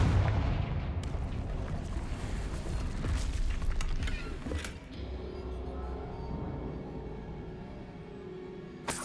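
Confringo spell blasts fired at an angry troll in Hogwarts Legacy, heard as loud booming impacts and clattering battle noise at first, then easing into a quieter rumble with a few sharp hits and no voices.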